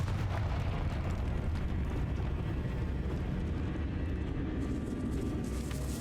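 A Confringo spell explosion in Hogwarts Legacy on PC gives a sustained, loud, rumbling blast with crackling debris that holds at full strength for several seconds.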